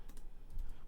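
Soft, quiet taps on a computer keyboard while entering Python code, a few scattered keystrokes close by with no talk.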